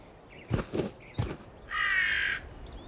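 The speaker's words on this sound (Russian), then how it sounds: "Что это за могильные вороны?" Crows in the video game Trine 5 give two short separated caws, then a longer, harsher drawn-out call, fairly close and clear against a quiet background.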